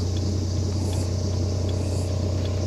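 A turbocharged Holden VL engine idles with no exhaust fitted, giving a steady, even low drone that holds unchanged throughout, close and constant with no voices.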